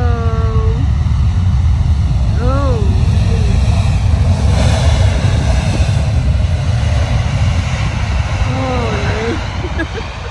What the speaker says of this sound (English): Oh, it's a cargo.